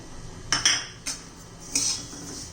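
Ajwain and white sesame seeds go into a pan over gentle heat: a few sharp, close metallic clinks and light rattles of a spoon against the pan, spaced irregularly, with no talk.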